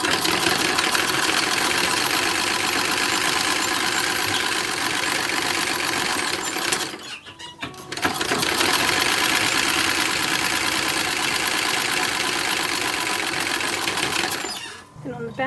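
An antique sewing machine runs in a steady, fast mechanical whir while stitching a pocket onto a bag. The run pauses for about a second midway and resumes, then halts briefly again near the end.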